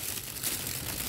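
Black plastic sheeting crinkles steadily as it is pulled over a potted Christmas cactus to block light, a close, continuous rustle with no talking.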